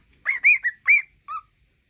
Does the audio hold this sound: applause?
no